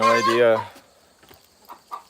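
A chicken clucks loudly and close with a drawn-out squawking call, followed by a few softer, scattered clucks and rustles.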